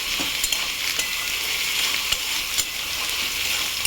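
Dried red chilies frying in hot oil make a steady, dense crackling sizzle close up, with scattered sharp pops and ticks throughout.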